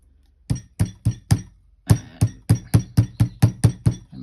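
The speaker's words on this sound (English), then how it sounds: "I'm just going to hammer this now with my rubber hammer" Sharp metallic hammer strikes from a rubber hammer on metal wire, four evenly spaced then a quick run of about nine more, each a crisp ringing tap close by with no talking.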